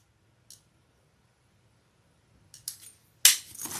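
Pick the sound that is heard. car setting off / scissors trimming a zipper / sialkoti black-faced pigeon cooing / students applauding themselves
scissors trimming a zipper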